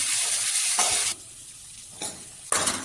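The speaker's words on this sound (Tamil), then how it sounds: "காய் நல்லா வாசம் வர அளவுக்கு நல்லா எண்ணெயிலே வதக்கிங்க" Cabbage sautéed in oil for cabbage chutney makes a close, bright sizzle that swells and fades as it is stirred, broken by a quieter stretch and short bursts of frying.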